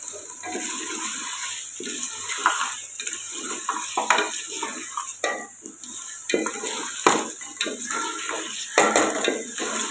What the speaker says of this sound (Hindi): अब इसमें ऑयल डाल दिया और सब्ज मिर्च का पेस्ट